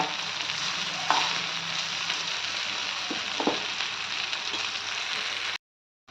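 Stuffed eggplant and onions frying in a pan, a steady close sizzle with a few clinks and scrapes of stirring, no talking, cutting off just before the end.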